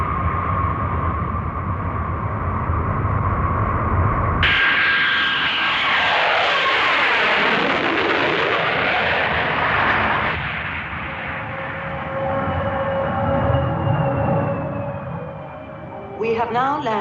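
Airliner cabin sound as a plane flies and lands at Hong Kong, a steady engine roar that swells into a louder, rushing surge midway, then settles into a lower hum with faint tones, voices murmuring in the background.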